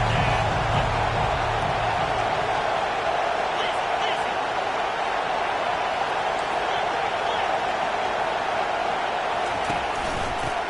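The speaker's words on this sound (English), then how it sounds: "this crowd is tearing the lid off this place" A stadium crowd roars in a college football video game, Iowa versus Ohio State, a dense continuous wash of cheering noise that stays steady and loud throughout, with commentary voices in the mix.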